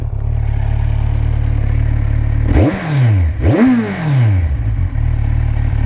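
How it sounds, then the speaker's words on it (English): A 2017 Kawasaki Z1000 motorcycle idles, then revs sharply twice in quick succession, each burst climbing in pitch before dropping back to a low, steady idle. "Give it a bit of a rev."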